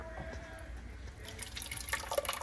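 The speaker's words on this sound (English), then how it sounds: "Now I'm going to pour it back in to make it hot." Blended pulpy sauce for keto chilaquiles poured back into a pan, a wet continuous splashing pour that grows busier toward the end, close and moderately loud with no talking.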